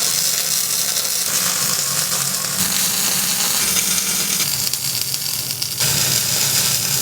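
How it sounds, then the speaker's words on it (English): A small MIG welder runs a steady bead on steel, a loud continuous crackling hiss with shifts in tone where the arc changes, close by and without talk. "It's been welding so nicely."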